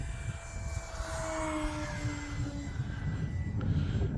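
An E-flite Extra 300 radio-controlled model airplane flies overhead, its electric motor a continuous buzzing drone that shifts slightly in pitch as it passes at a moderate distance outdoors.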